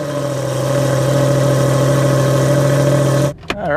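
A Lamborghini Gallardo supercar engine runs at a steady, loud idle with a strong low hum, then cuts off abruptly near the end, leaving a brief thump.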